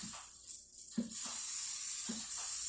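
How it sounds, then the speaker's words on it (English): Several short bursts of oil spray hissing, with brief pauses between, under a steady high-pitched background hiss. "I spritz it with oil to help the removal process a little bit"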